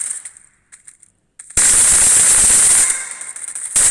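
AK rifle fire in the video game Combat Arena: a loud, dense automatic burst after a few quieter clicks and muffled sounds, ending abruptly with a brief resumption.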